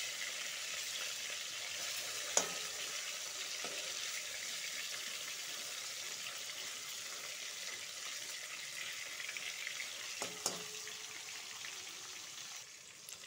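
Katla fish fries in hot oil in a pan, both sides already cooked: a steady, soft crackling sizzle throughout, with a couple of sharp pops standing out.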